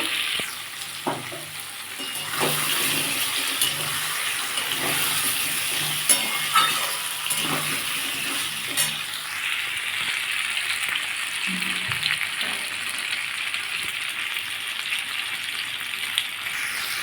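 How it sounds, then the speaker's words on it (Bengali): Boiled gati kochu taro sizzles in a pan with potato and pumpkin, a continuous bright frying hiss broken by repeated clinks and scrapes of a spatula stirring. "গাটি কুটিটা সেদ্ধ করে রেখেছিলাম সেটাও দিয়ে দেবো দিয়ে একটু ভেজে নেব"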